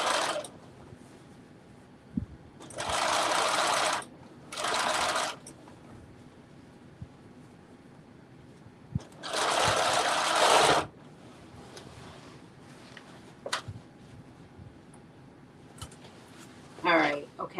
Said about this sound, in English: I've sewn in the first part, and I'm just going to do a nice little back stitch.